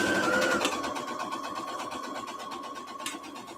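Sewing machine running a seam on a scrunchie keychain wristlet, a close, continuous buzzing whir with a fast regular stitch rhythm that eases slightly in loudness toward the end.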